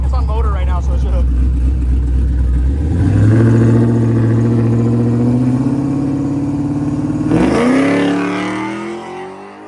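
A 1998 Camaro LS1 street car revs hard and accelerates, its pitch climbing steadily before dropping and rising again, loud and close, with voices faint underneath.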